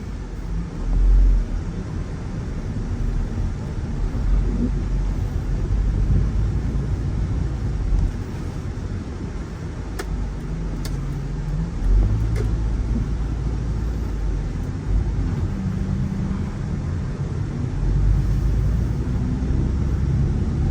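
Mitsubishi Spacewagon 2.4 GLS automatic from 2005, a seven-seat family car, driving on a test drive, with steady low engine and road rumble continuing throughout from inside the cabin.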